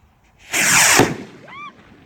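A Hellcat firework rocket launches with a loud, close whooshing burst that lasts about half a second, followed by a fading crackle and a brief rising whistle.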